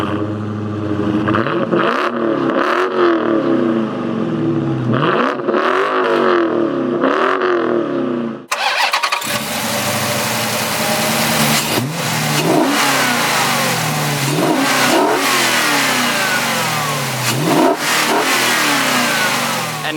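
A 2018 Dodge Challenger T/A 392 V8 with chrome-tipped dual exhaust gives several loud, rising revs. The engine is close and loud with no talk, and the last part brings a rougher, steadier engine roar with more revs.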